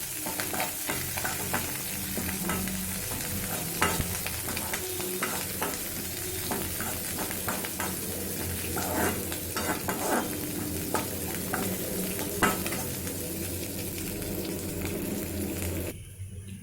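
Green chillies and curry leaves fry in a pan for kara paniyaram, a steady close sizzle with frequent scraping stirs, no talking, cutting off just before the end.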